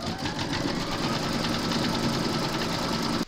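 An embroidery machine stitches an applique round in the hoop for a large parrot design, a close, loud, rapid mechanical chatter held steady throughout before cutting off at the end.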